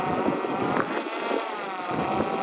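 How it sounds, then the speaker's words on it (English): Steady, blustery wind buffets the microphone, a constant rumbling roar with gusty swells and no voices. "Quite windy up here."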